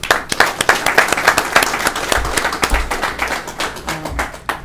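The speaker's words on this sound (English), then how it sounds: "I definitely think that you deserve a round of applause" A modest group at a union general membership meeting applauds, with distinct, fairly close hand claps running for several seconds and a faint low rumble underneath.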